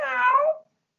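A single cat meow lasting about half a second, close and clear, with a rising then falling pitch before it cuts off into silence.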